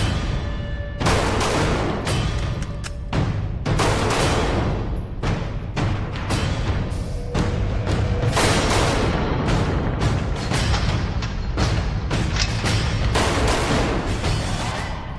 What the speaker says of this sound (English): We're going to engage 2, boom, boom, slide will lock to the rear, speed reload, engage in seconds.